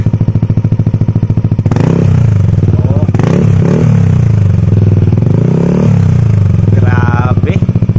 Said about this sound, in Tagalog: sound check tayo without silencer. Alright, so isang rev.